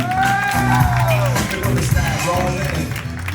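Crowd clapping and cheering for the bride's parents at an Armenian wedding reception, steady and loud over music with an announcer's voice and crowd noise throughout.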